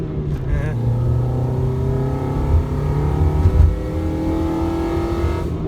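A Nissan Altima with its air filter removed accelerates, the intake roaring loudly as the engine note climbs steadily and holds, close and continuous.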